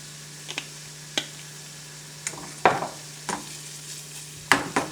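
Shallots and dried thyme cook in olive oil, giving a faint low sizzle broken by a series of sharp clicks and scrapes as the pan is stirred.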